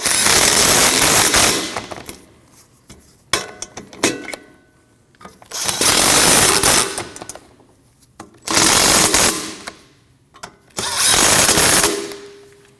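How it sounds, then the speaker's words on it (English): A power tool tightens the rear brake backing plate bolts on a 2003-2008 Subaru Forester, sounding as four loud whirring bursts of a few seconds each with clanks and pauses between them, close by. "And start your bolts. Then tighten them down."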